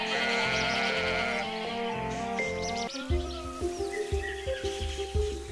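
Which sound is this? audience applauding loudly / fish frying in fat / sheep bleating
sheep bleating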